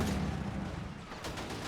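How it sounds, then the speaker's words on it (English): Gunfire in a Company of Heroes 3 multiplayer match, a muffled battlefield rumble with a few short, distant shots rising near the end, with no voices over it. "I'm hearing some gunshots to our left"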